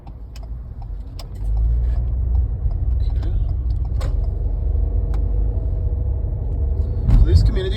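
A car driving in road traffic in Myrtle Beach, with a low, steady engine and road rumble heard from inside, a few faint clicks and jangles on top, and someone talking over it.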